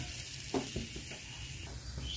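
Ground chana dal fries gently in oil and ghee with a soft, faint sizzle and a few light stirring scrapes near the start. The sound is quiet and close, with no talking.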